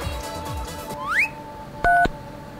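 A phone gives a short electronic ringtone of a rising chirp followed by a steady two-tone beep, moderately loud and alone over faint room background.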